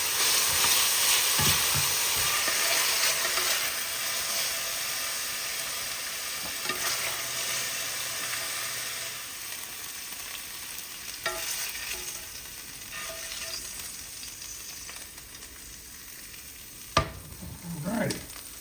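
Beef tips sear in avocado oil in a pan, a steady loud sizzle with a few scrapes and stirring clatters, ending in a louder clunk near the end, with no talking.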